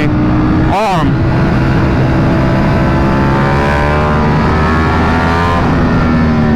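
Sport motorcycle engine accelerating during a test ride, a loud close engine whine with a sharp rising rev burst near the start followed by steady high-pitched drive under wind roar; speech likely mixed in.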